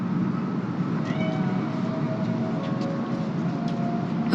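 In a Cyberpunk 2077 game scene, a cat gives a drawn-out, wavering meow over a steady low rumble of background ambience. The cry is faint to moderate and sits well behind the constant hum.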